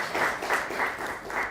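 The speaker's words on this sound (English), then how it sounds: "A round of applause for the panel." A brief burst of audience applause for the panel at a roundtable assessing the first year of John Mahama's second term, dense and fairly loud and swelling in soft pulses.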